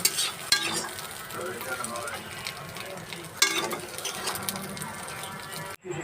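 Egg frying in hot oil in a pan, a steady close sizzle with light stirring and scraping, a voice speaking over it.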